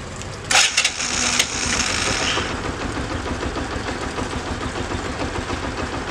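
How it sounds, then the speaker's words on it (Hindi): A Bajaj Platina BS6 motorcycle, just started by remote self-start, idles with a steady low mechanical chug after a few brief clicks and rattles at the start. "बाइक स्टार्ट हो चुका है।"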